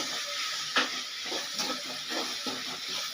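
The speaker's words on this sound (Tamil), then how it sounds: "தக்காளி நல்லா வதங்கட்டும்." Tomatoes sauté in a pan for a Nagercoil-style fish curry, giving a steady, moderate sizzle with faint stirring scrapes and small crackles and no talking.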